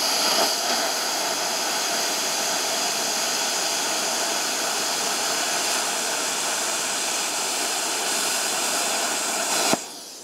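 BestArc Gen 3 BTC500DP plasma cutter cutting metal at 35 amps, a loud, steady roaring hiss of air and arc that holds for about ten seconds, then stops with a sharp click.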